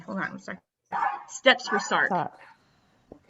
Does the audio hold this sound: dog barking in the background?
yes